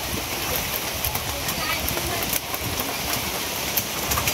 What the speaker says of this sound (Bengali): আবার বৃষ্টি শুরু হয়েছে